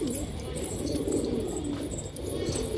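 Antique-coloured gajra pigeons coo in soft rolling murmurs amid a busy background with faint higher chirps and a brief click.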